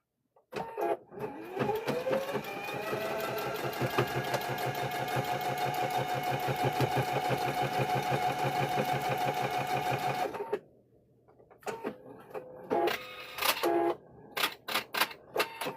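A sewing machine stitches a fabric phone stand closed, running in one steady, fast rhythmic chatter for about nine seconds before stopping, followed by a few short clicks and brief bursts; close and alone.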